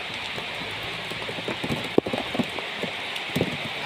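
Steady rain hissing on a roof, with scattered louder drips and taps landing on top of the wash.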